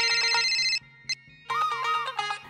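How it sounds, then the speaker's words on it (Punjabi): An incoming call sets off a melodic mobile phone ringtone, playing a bright repeating tune in two loud bursts separated by a short pause, close by with no talking over it. "ਜੱਸੀ ਦਾ ਫੋਨ ਇਹ ਹੁਣ ਮੈਨੂੰ ਫੋਨ ਕਿਉਂ ਕਰ ਰਹੀ ਹੈ"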